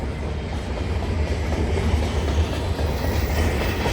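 A CN freight train rolls past at night on the York Subdivision, a steady loud rumble of wheels and railcars with rhythmic clatter and no voices.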